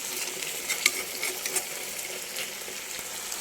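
Mutton keema frying in a pan while being stirred, a steady close hiss and sizzle with light scraping clicks from the stirring throughout.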